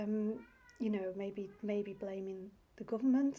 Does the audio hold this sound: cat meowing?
yes